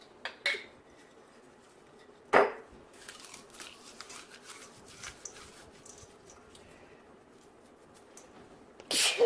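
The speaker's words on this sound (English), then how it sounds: "So now I'm also going to crush some mushrooms into here." Home-dehydrated mushrooms are crushed by hand into lean ground red meat, giving a few sharp, dry crackling crunches scattered among quiet rustling and faint handling noises.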